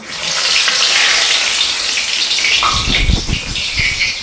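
Chili peppers coated in batter drop into hot oil with a loud, steady bubbling sizzle close by, and a few heavier pops and splashes come near the end.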